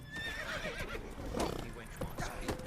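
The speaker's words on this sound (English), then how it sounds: "Ven aquí, caballo. ¿Dónde vas?" A horse in the video game The Witcher 3 neighs and whinnies with hoof clip-clops nearby, over game ambience while a player talks.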